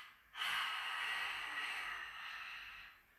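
A single long, breathy exhale from a hypopressive breathing exercise, close and fairly soft, trailing off gradually over about three seconds.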